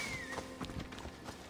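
Horse hooves in the video game Assassin's Creed Odyssey, a quick clopping gallop approaching after being called, with a brief whinny-like tone, all short and moderately loud.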